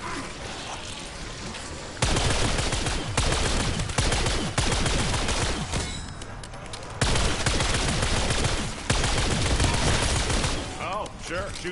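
A powerful gun fires in a zombie video game, with loud, dense bursts of rapid shots in several long stretches separated by brief quieter gaps.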